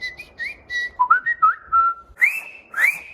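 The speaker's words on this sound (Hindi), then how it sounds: "सीटियाँ बजानी आती है अलग अलग" A person whistles a quick series of short, pitched notes with rising and sliding tones, then two longer upward swoops, clear and close with pauses between phrases.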